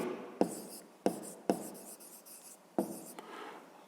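Pen writing a math expression by hand on paper, a few short scratchy strokes in quick bursts separated by brief pauses, close and quiet with no talking.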